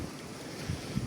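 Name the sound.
strong wind blowing into the microphone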